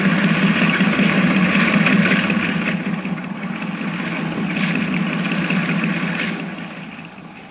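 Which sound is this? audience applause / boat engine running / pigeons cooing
boat engine running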